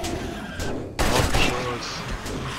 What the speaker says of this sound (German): warum schieße ich denn nicht einfach mit Revolver?